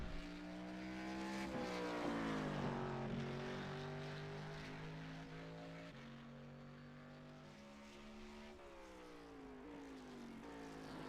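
A race car engine on a hot lap at Road America in a VR racing game drones steadily, with the pitch rising and falling through the gear changes. It is quiet, even, and heard alone without talk.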